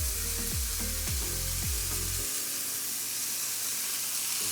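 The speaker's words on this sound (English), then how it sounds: "it will take a few minutes to fry off, probably 5 minutes or so" Steady sizzling and crackling of steak and mushrooms frying in a hot pan, with a low hum that cuts out partway through.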